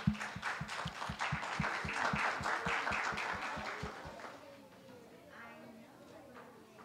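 Steady rhythmic clapping from a small group at an induction ceremony for the Kissimmee Parrots, rapid even claps for about four seconds, then fading into quieter room noise with murmuring voices.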